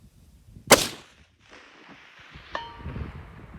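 A single sharp, loud rifle shot from a Weatherby Mark V Carbonmark fired at an outdoor range beyond 100 yards, followed by a fading echo and a faint distant impact, with light rustling afterward.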